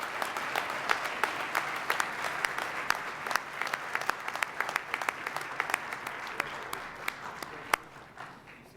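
Audience applause at a youth service awards program, steady dense clapping with sharp individual claps standing out, sustained for several seconds before tapering off near the end.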